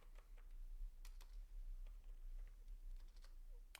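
Code for a beginner React JS portfolio website being typed on a computer keyboard, faint quick key taps in loose bursts over a low steady hum, no voices.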